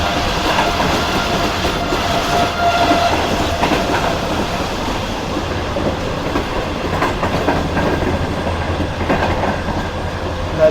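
A passenger train runs at speed through Dharavi railway station on the Thar Desert route, with a loud, continuous rush of wheels and rail noise and a rhythmic clickety-clack, heard close and alone.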